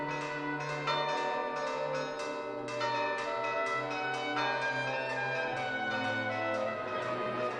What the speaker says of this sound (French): les cloches de l'église appellent les paroissiens